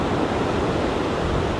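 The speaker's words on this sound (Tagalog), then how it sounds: "mahangin po kasi dito sa tabing dagat" Wind and surf on a seaside shore form a steady, close broadband roar that holds level throughout, then dips abruptly just before the end.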